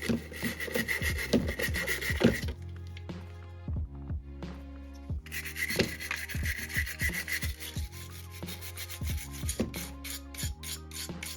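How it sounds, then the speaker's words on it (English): A brush scrubs paint off a Transformers toy in quick, repeated rasping strokes, close up, under steady background music. "take our brush, in fact, maybe even dabble a little bit. We start scrubbing it off."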